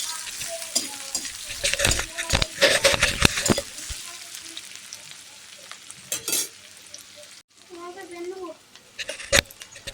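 Onion and green chilli fry in hot oil with a crackling sizzle broken by bursts of vigorous stirring and spatula scrapes, close and fairly loud, with a voice speaking at times over the cooking.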